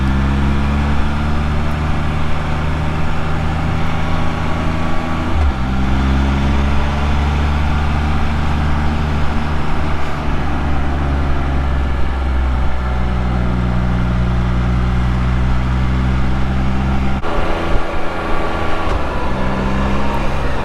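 Can-Am Spyder three-wheel motorcycle cruising along a road toward Letchworth State Park, a steady loud engine drone with shifting harmonic pitch changes around gear shifts, continuous and close, with no talking.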